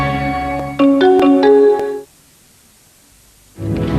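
A Nokia mobile phone ringtone from a 1995 TV advert plays a short melodic run of bright electronic notes. It cuts to near silence, then other sound starts up.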